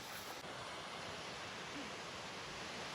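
A waterfall in the Bhimashankar jungle near a village roars as a steady, broad wash of falling water, heard from a distance, constant and unbroken with a faint windy edge and no voices.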